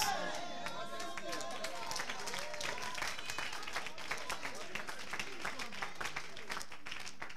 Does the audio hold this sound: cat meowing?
no